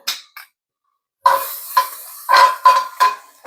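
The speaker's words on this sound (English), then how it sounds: "Now, I'm going to mix all that around." Teriyaki beef with garlic and green onions is stirred in a pan, giving separate scraping strokes and utensil clatter in quick bursts after a brief pause, close and fairly loud.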